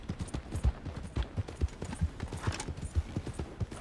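A horse's hooves beat out a quick, rhythmic galloping clip-clop in Red Dead Redemption 2, quiet but clear, with no other sound on top.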